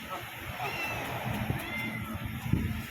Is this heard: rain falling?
no